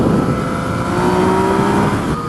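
A Yamaha MT-09 motorcycle engine revs steadily under acceleration in fourth gear, close and loud, with a continuous droning tone that slowly rises in pitch over a couple of seconds.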